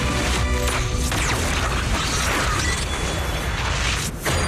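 A dense, continuous roar of crashing and rumbling explosions in Zenless Zone Zero, loud and sustained, with mechanical clatter and bursts layered throughout.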